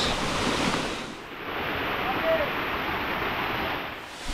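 Waterfall on a forest trail pouring in a steady, loud broadband rush of falling water, continuous and close, with wind buffeting the microphone at moments.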